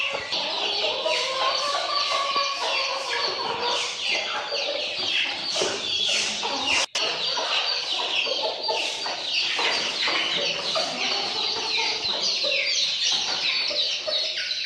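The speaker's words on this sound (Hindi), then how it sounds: "छोटे चूज़े, मुर्गे मुर्गियाँ, पट्ठे पट्ठे बहुत शौक़ से खाते हैं।" Aseel chickens, roosters and young chicks cluck busily and continuously while feeding, a dense overlapping chorus of close, loud bird calls with no speech.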